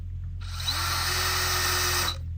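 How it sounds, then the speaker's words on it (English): A power drill drives a screw into 4x4 lumber, whirring steadily for about two seconds, loud and close, starting and stopping abruptly over a low electrical hum. "I'll simply just screw my screw into the wood"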